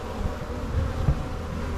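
Honey bees buzzing at an open beehive in an Alaskan garden, a dense close hum with a few louder passes of individual bees near the microphone.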